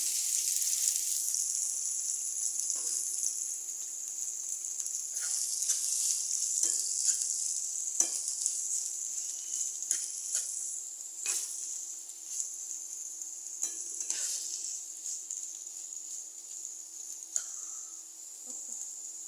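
Onion frying in oil in a pan as vegetable pasta is cooked, a faint, steady high sizzle with scattered soft clicks and stirring taps throughout, fairly quiet and distant.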